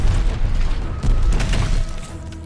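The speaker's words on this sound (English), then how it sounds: "It's gonna blow!" A loud, low rumbling blast in the Call of Duty: Vanguard war shooter, a booming explosion that rolls on and slowly fades, with mechanical clatter mixed in.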